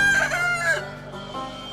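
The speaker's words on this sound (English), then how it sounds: "It's a rooster." A rooster crows loudly and close by in a single short, strained call over a steady background hum on a farm.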